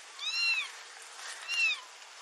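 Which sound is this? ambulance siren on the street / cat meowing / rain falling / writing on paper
cat meowing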